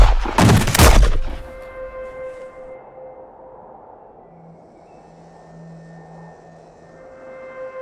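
Gunfire in a western short film: a loud burst of overlapping shots in the first second, then fading echoes and a low rumble with faint tonal hums trailing off.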